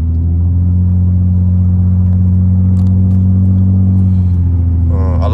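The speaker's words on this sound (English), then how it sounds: "The drone really is not bad. It just sounds like a sporty car." A 2013 Nissan Maxima with modified exhaust drones steadily from inside the cabin while driving, a loud, even low hum that holds for several seconds before shifting slightly at the end.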